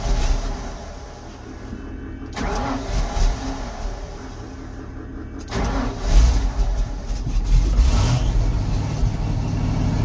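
A fuel truck's fuel-injected engine cranks and catches, then settles into a rough, rumbling idle nearby, followed by a second, stronger surge as it revs and keeps running loudly.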